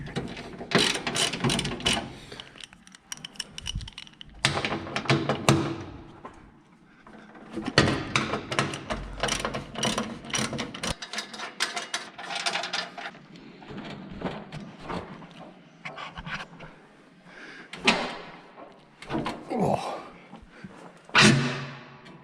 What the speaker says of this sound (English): Just undo these, get it out, this flips open and you can access the radiator